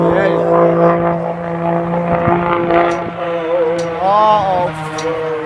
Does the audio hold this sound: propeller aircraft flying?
yes